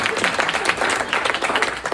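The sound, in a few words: one person applauding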